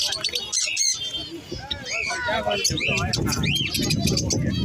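Pet birds, including conures, squawk and chirp at a busy Sunday bird and animal market in Srirampur, giving close, dense, overlapping shrill calls with voices mixed in.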